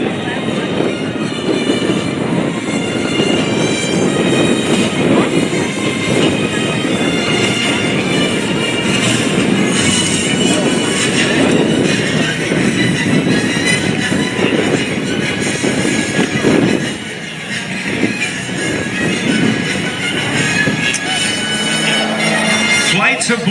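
Two T-6B Texan II aircraft fly by together at the 2022 Blue Angels Homecoming Air Show, making a loud, sustained roar that dips briefly before building again, with voices faintly beneath.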